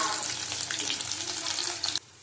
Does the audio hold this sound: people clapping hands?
no